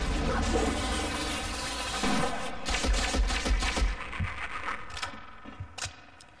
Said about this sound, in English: That does not sound like a nail gun. It sounds like a silenced pistol.